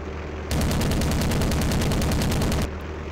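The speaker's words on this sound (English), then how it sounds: "I'm trying to get around so I can shoot it." Rapid automatic gunfire in the WWII Online combat game erupts as one loud, close burst of quick repeated shots lasting about two seconds, with no talk over it.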